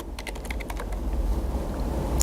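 Keys on a computer keyboard tapped to enter a backup password in accounting software, a quick run of light clicks in the first second, close and soft over a low hum.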